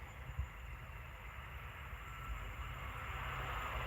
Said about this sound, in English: Class 66 coming through.